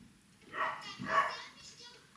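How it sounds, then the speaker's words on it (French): Stray dogs in Mauritius barking at a moderate distance, with two fuller barks close together and fainter yelps trailing after them. "Vous savez qu'à Maurice, on entend des chiens genre tout le temps."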